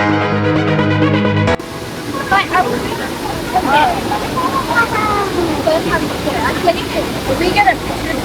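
A waterfall on the Atherton Tableland near Cairns roars in a continuous broad rush, with a crowd of holiday visitors chattering and calling over it throughout, after a brief louder sound at the start.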